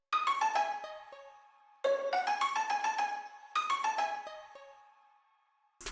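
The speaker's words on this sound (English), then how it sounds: "Then I added this other bell from KBZ One Shot Kit." A bright bell one-shot from the KBZ kit plays descending arpeggiated phrases in three repeating bursts, each ringing and decaying, layered over a dark piano melody, clean and isolated with no voice.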